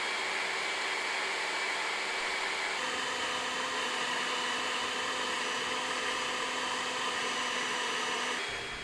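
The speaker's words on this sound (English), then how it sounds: "we're just going to find out if we can see visually which blower is more powerful" An Alloyman 40V cordless leaf blower runs continuously at close range with a loud, steady whooshing roar, shifting slightly in pitch partway through before cutting off at the end.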